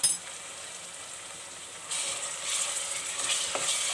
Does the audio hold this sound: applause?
no